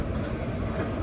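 Sethu Express from Rameswaram pulling into Chennai Egmore railway station, a steady low rumble of rolling wheels and carriages filling the short span at even loudness with no voices.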